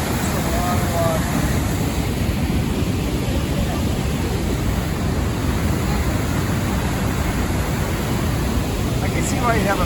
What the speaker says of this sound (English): Waterfalls there.